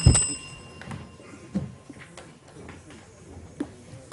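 A bell sounds to close the final challenge of a school quiz match between Titchfield High and Munro College, a bright ringing burst at the very start followed by faint room murmur.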